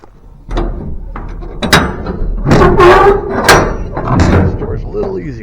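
Cab door on a VC13C mini excavator opened and shut, a few thumps and latch clacks near the mic, with someone talking over and between them.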